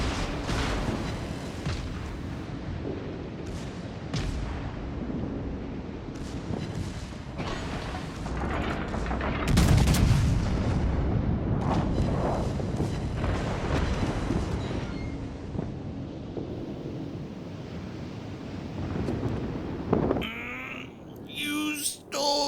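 Bismarck battleship firing salvos in the naval game World of Warships: Legends, repeated heavy booms and rumbling blasts over a steady mechanical battle drone, with someone talking over much of it.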